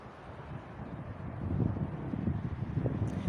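Wind blowing outdoors through a flower garden with a swaying rose, a steady low rumble that swells midway and stays fairly close and moderate, with no talk over it.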